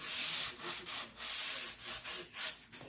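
Hand sanding on an antique oak sideboard, a steady rasping rub repeated in regular back-and-forth strokes, close and fairly loud with no talk.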